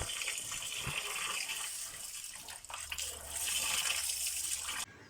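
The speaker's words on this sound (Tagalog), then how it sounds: "dito hugasan muna natin yung gagamitin nating bigas" Tap water runs steadily into a pot of basmati rice being washed, a continuous splashing gush that swells louder toward the end before cutting off abruptly.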